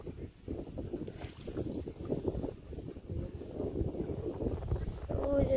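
Outdoor wind buffeting a microphone in a rural village, with rumbling low gusts throughout and faint background voices.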